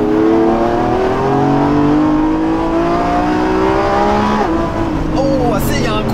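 Lamborghini Revuelto with its 1015 hp V12 hybrid powertrain revs hard and loud, the engine note climbing and falling in sweeping waves, with sharp random exhaust pops crackling near the end; a voice speaks faintly under it.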